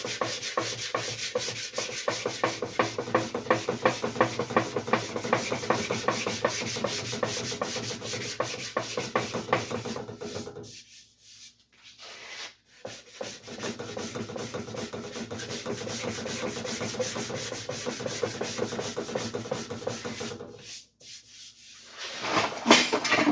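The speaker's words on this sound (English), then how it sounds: "So I'll just sand that out." Sanding a repaired low spot on a 1969 Triumph T120 side cover, a steady scratchy back-and-forth rubbing that runs close and loud, briefly stopping twice before resuming.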